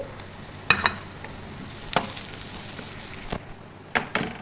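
Grated ginger and garlic fry in a pan over softened onions, a moderate sizzle punctuated by several sharp clinks and scrapes of a spoon against the pan.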